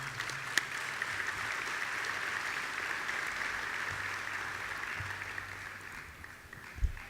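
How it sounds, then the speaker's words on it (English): Audience applause at the MEC Powerplay 2017 event, a steady wash of clapping held at moderate loudness, with a couple of sharper claps standing out before it fades. "One more round of applause for Robin."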